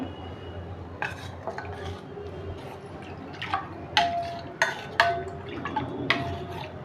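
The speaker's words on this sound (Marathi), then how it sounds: "मस्तपैकी केसर टाकून चांगलं हलवून घेऊया" A spoon stirs saffron into milk in a pot or bowl, giving light scattered clinks and scrapes with a soft liquid swish, close and fairly quiet, without talking.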